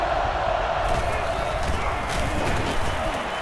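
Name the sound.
stadium crowd cheering in NCAA Football 09 video game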